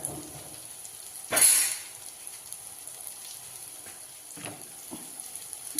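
Five okra pods and a tomato sautéing in a pan for Onam ishtu curry, a soft steady sizzle broken by a loud splash-like burst of hissing early on and a few light stirring knocks.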